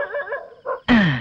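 A dog gives a few short yaps, then a louder, drawn-out bark or howl that slides downward, close and clear with no speech.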